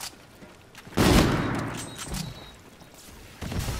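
Sniper rifle fire in the Infinite Warfare video game, one loud, close shot that rings out and decays over about two seconds, with a second blast starting near the end.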